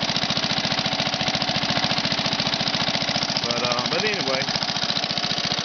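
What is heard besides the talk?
1962 Sears push mower Briggs engine running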